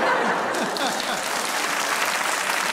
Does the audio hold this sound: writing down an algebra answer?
no